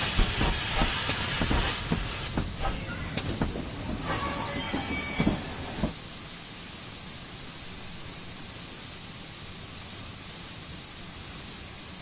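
A GWR Small Prairie steam locomotive on the Western Lines of Scotland route in Train Simulator 2015, with rhythmic chuffing, wheel squeal and steady hiss at first, fading to a continuous rolling rumble and high hiss.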